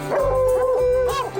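Hunting dogs bark and howl at a mountain lion treed in the Rockies, a loud close baying howl rising and bending in pitch over about a second and a half, with no one talking.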